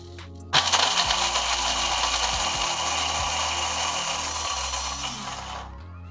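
Blender grinding frozen raspberries with flaxseed into a powder, starting abruptly into a loud, steady, close motor roar that holds for about five seconds before winding down.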